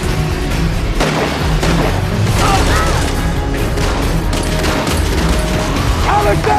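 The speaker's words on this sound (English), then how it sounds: "Guns are blazing!" Heavy gunfire in a loud battle scene between Rick's and Negan's sides, a dense continuous roar of shots and booms mixed with crashes and shouting voices.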